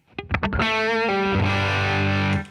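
Distorted electric guitar through a Fender Deluxe Reverb amp boosted by a Guitar Slinger RB1011 MKII booster, a few picked notes swelling into a loud sustained chord that rings out steadily without talk.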